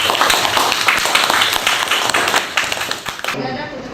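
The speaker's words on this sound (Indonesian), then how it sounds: "Kasih aplaus untuk Rahma" Students in a classroom break into brisk, dense clapping for a classmate, close and loud, tapering into scattered claps before ending after about three seconds.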